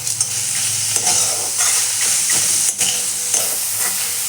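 Radish greens (mulo shak) fry and sizzle steadily in a pan, with a loud, continuous hiss and occasional stirring scrapes throughout.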